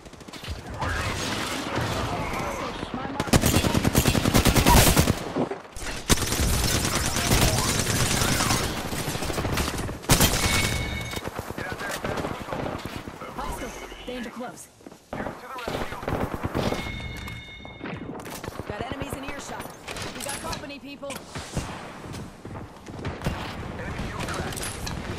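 Dense bursts of gunfire in Apex Legends, rapid automatic volleys and loud shots stacking over one another almost without pause, with brief gaps and some mechanical clicks in between.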